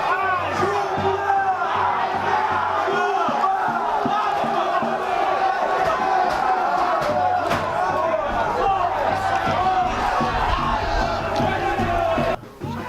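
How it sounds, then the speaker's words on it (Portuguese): Football fans in a stadium crowd roar and chant loudly after a goal, a dense continuous cheer that holds steady from start to finish before cutting off abruptly at the end. "Vinícius, sempre ele, foi na rede. Abílio Pedro 1-0, para o delírio da sua torcida"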